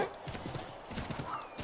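A horse in the video game Assassin's Creed 3 Remastered moves with a steady, rhythmic clip-clop of hooves, close and continuous over a game soundscape.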